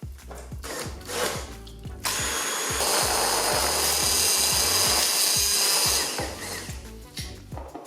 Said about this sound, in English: let's go ahead and blend our chilies